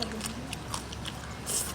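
Crisp bites into roast pork lechon from Las Piñas give a few sharp crunches close to the mic, with light chewing and quiet voices around them.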